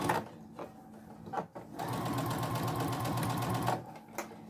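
A sewing machine stitches along the edge of a dish towel in quick, even mechanical bursts, with brief pauses between runs and a close, fairly soft clatter.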